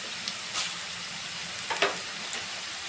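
Tempering seeds of chana dal, cumin and mustard crackle in oil over fried bitter gourd, a soft steady sizzle broken by a few brief pops and spatula scrapes, with no voices.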